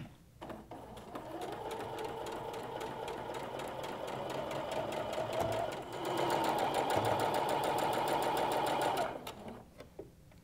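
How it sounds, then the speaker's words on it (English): A sewing machine stitches fabric strips onto a quilt block in a steady, fast mechanical whir that runs for several seconds, picks up speed partway through and then stops, with no voice. "I'm going to sew those strips to either side of the block now."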